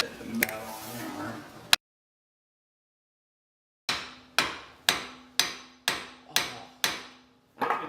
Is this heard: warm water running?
no